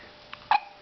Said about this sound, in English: Yeah, hiccups.